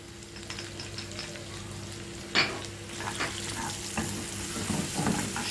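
Minced garlic frying in a pan while cooking sausage pasta in red sauce, a soft steady sizzle with occasional stirring scrapes and clicks, fairly quiet and close.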